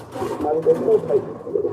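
Large Mundian pigeons coo in low, throaty bursts while being handled at a sale, several soft repeated calls close by under a man's speech.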